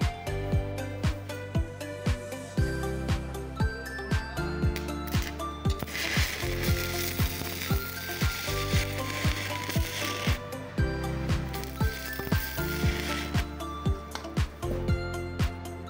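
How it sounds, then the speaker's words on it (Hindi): An ARC 300L welding machine during a test weld gives a steady crackling buzz laced with rapid rhythmic clicks and ticking, continuous and fairly loud throughout. "और अभी इसकी हम वेल्डिंग टेस्ट करते हैं जी।"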